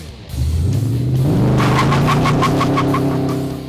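A recreated Mad Max Interceptor car drives off loudly, its engine rising in pitch as it accelerates and shifts, a steady close-up roar with no talking.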